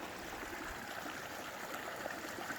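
Creek water at Horse Creek Hot Spring flows steadily with a constant close-up rush and gurgle that has no pauses or changes, and nobody talks.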